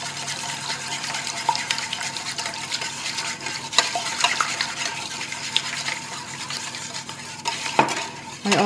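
Eggs being whisked with milk and cream for a spinach cake, a steady close scraping and clinking of a utensil against a bowl, running continuously without speech.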